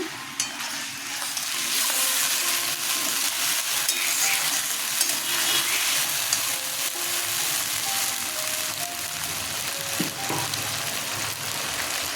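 Ginger garlic paste hits a pan of onions for ghugni and fries with a loud, continuous sizzle and crackle, while a spatula stirs through it and scrapes now and then.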